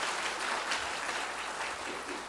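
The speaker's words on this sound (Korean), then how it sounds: "우리 박수로 한번 먼저 축복해 주시죠" A church congregation claps steadily for a missionary who has served in Rome, a dense, even wash of applause filling the room throughout.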